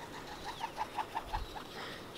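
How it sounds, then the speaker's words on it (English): A Kererū, the New Zealand pigeon, takes off in forest with a quick run of about seven soft, rhythmic wingbeat whooshes, moderately close and fairly faint against background ambience. "that was the Kererū taking off"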